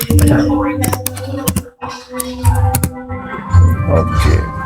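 Keystrokes on a computer keyboard during Java programming work, sharp clicks in irregular bursts, fairly close and loud, with a steady low hum and a voice talking through much of it.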